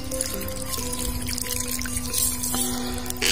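A small stream of water trickling steadily near a hut on former rice-field land, a continuous close flow with a faint tonal hum running beneath it.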